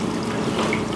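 Water poured and strained off soaked dried chiles, seeds and veins caught in a strainer while making tamales in a kitchen; a steady, close trickling stream running continuously for the whole second.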